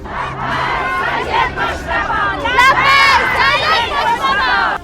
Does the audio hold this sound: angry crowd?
yes